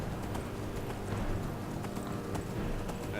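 A horse galloping in Skyrim, rapid hoofbeats running steadily through a dense, continuous wash of game ambience, moderately loud with no talk.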